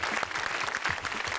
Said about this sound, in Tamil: நல்லா கைத்தட்டு கொடுக்கலாம்.